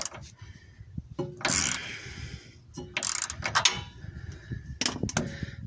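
Ratcheting clicks from a wrench tightening 14 mm bolts on the front suspension sway bar of an all-wheel-drive Chevy Blazer, sounding in several bursts of rapid ticking with short pauses between, close and fairly clear.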